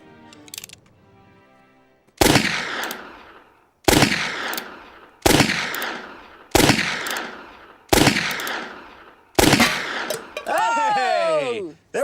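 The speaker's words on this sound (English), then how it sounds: "I'm about to shoot a full load at your cans." Six loud gunshots fired at cans, evenly spaced booms with ringing decay each about a second and a half apart, close, with brief talk before and a voice at the end.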